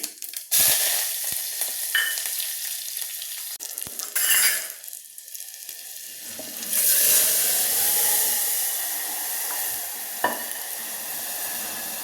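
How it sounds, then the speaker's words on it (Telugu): Curry leaves and chopped onions hit hot oil for spinach curry, a loud burst of sizzling that settles into steady frying with clinks of a spoon against the pan. "ఇక కరివేపాకు ఉల్లిపాయ ముక్కలు యాడ్ చేద్దాము"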